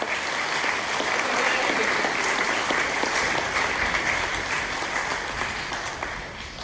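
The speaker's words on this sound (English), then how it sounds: "Let's give them another round of applause." A church congregation at an Easter Sunday service claps in steady, dense applause that stays loud throughout and fades slightly at the close.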